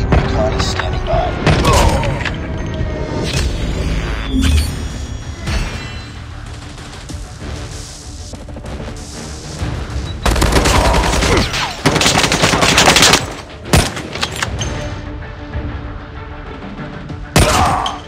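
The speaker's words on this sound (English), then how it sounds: "Friendly airstrike incoming." Video game combat with an airstrike: sustained loud gunfire and heavy booming explosions roll through, with dense bursts and louder blasts near the end, while in-game voices call out over the din.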